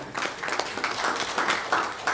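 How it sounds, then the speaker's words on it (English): Workshop audience at an African CSR awards event gives a brief round of applause, an even, moderately quiet patter of many hands clapping without pause. "give a thunderous round of applause for SERAS for this platform"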